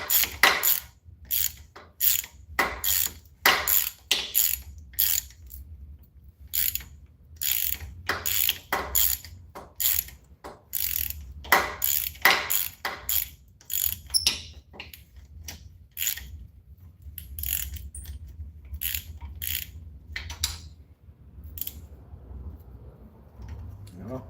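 A socket ratchet wrench clicks in fast, repeated bursts of sharp ticking, close by, with short gaps between strokes.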